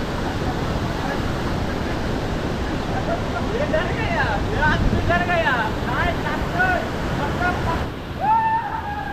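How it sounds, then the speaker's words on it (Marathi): A dangerous waterfall plunging into a deep pool at a village stream pours out a steady broadband rush of water, loud and constant throughout, with a voice talking over it. "तर हा वॉटरफॉल बघा कसला खतरनाक आहे"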